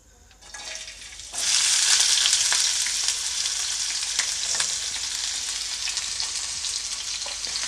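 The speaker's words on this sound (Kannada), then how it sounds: "ಇವಾಗ ಎಣ್ಣೆ ಚೆನ್ನಾಗಿ ಕಾದಿದೆ ಇವಾಗ ನಾನು ಅದಕ್ಕೆ ಹೆಚ್ಚಿಟ್ಕೊಂಡಿರುವಂತಹ ಸಣ್ಣದಾಗಿ ಹೆಚ್ಚಿಟ್ಕೊಂಡಿರುವಂತಹ ಈರುಳ್ಳಿನ ಹಾಕ್ಕೊಳ್ತೀನಿ" Finely chopped onion drops into hot oil for a spicy masala bun, a quiet start that jumps into a loud hiss and then a steady crackling sizzle close by.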